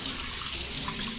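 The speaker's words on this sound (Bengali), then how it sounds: "আলুগুলোকে ধোয়া হচ্ছে," Tap water runs steadily into a sink while potatoes are washed, a continuous close splashing with no pauses.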